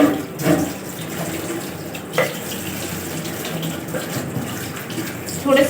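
Tap water runs steadily and fairly loud into a sink while wings are washed at home, a continuous splashing gush with brief knocks and faint voices underneath.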